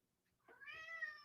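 A pet cat at home gives a single rising meow, close but fairly quiet, lasting under a second in an otherwise silent room.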